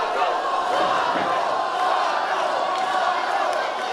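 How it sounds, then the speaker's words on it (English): Wrestling arena crowd at a CCW show chanting for Swoggle, a dense, steady roar of many voices sustained throughout with no clear rhythmic beat standing out. "You can hear it. They're chanting for him."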